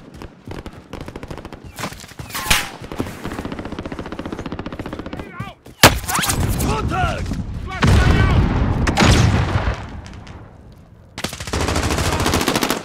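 Rapid machine-gun and rifle fire from the Call of Duty Modern Warfare video game rattles in loud, dense bursts with booming shots, broken by a short pause and then resuming.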